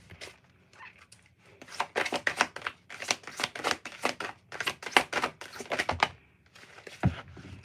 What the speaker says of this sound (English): These are not easy to shuffle.